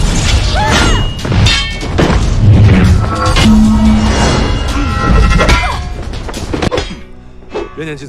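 A dynamite blast goes off during a sword-fighting clash between a swordsman and royal soldiers, a loud, dense crash with heavy impacts layered over dramatic music-like tones that fade near the end.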